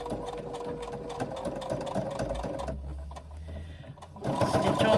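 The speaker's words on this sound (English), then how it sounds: "go to your machine and stitch your pocket on" A sewing machine runs steadily while stitching a pocket onto a handbag, its whirring motor carrying on for a few seconds and then stopping briefly before starting up again.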